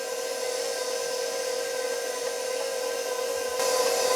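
Stand mixer with a dough hook kneading butter-enriched bread dough, a steady motor whine running continuously and growing slightly louder near the end.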